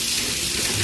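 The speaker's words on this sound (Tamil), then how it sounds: "மோட்டர் ஆன் பண்ணா இதில் பார்த்தீங்கன்னா நம்ம போர் தண்ணி வரும்." Bore water gushes from a home tap into a kitchen vessel, a steady loud rushing splash with no pauses, filling the short moment on its own without talk.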